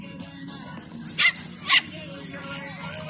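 Small white long-haired dog with cream-yellow spots barking at a dog beach, a couple of short sharp barks standing out over steady background chatter and ambient noise.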